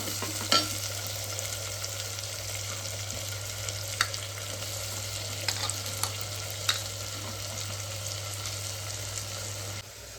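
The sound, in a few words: tomatoes and onions sautéing in a pan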